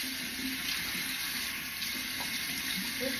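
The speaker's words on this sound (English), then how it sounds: "And I always use just cold water." Cold tap water runs steadily into a sink in a New York home bathroom, a continuous close hiss and splash of moderate loudness with no talking.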